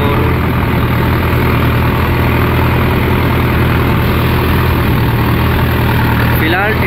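A tractor runs at about 1300 to 1400 RPM, pulling an 11-tine cultivator for deep ploughing in a wheat field under some load, giving a loud, steady, unbroken engine drone throughout.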